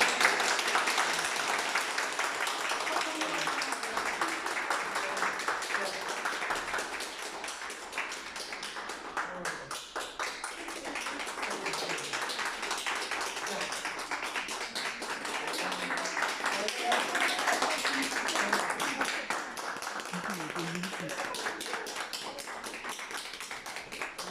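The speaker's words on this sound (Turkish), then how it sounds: "Hadi alkışlayalım." An audience claps together in a steady, sustained round of applause, dense patter continuing for many seconds with voices mixed in over it.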